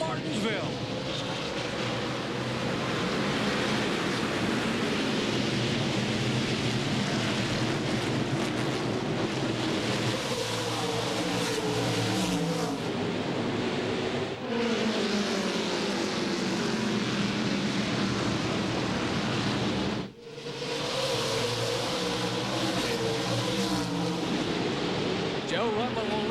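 NASCAR Craftsman Truck Series trucks racing at Martinsville in 2001 roar past in a steady, loud, sustained engine drone with swelling pass-bys, while an announcer talks over the noise.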